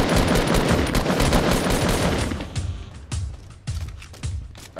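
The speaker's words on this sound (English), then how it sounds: "Are you shooting at those guys too?" Dense, loud Fortnite gunfire with bursts of rapid shots, first continuous, then breaking into a few separate cracks and short volleys.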